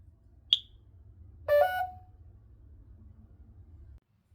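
A home smoke and carbon monoxide alarm, newly installed in a garage, gives one short high beep and then a louder half-second burst of harsh buzzing tones. A low steady hum fills the background throughout.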